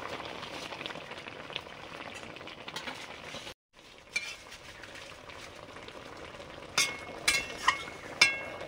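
Broth bubbling in a cooking pot, a steady soft seething simmer with a brief drop-out, then a few louder clinks and knocks near the end.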